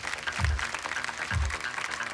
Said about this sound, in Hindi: भाई तालियों के साथ उनका भी स्वागत किया जाए।